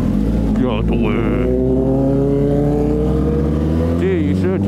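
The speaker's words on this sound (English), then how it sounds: "Some like biker just passed by me with like a dumb sounding exhaust." A motorcycle with a loud, harsh aftermarket-sounding exhaust passes close by on the road, its engine droning loudly with shifting pitch that rises and falls as it goes.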